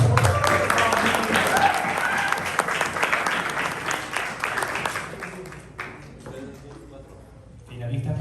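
Loud audience applause at the prize ceremony for the finalists of the 2024 ASPADE Invitational Tournament, filling most of the clip with dense clapping and crowd noise before it tapers off, then swells slightly again at the end.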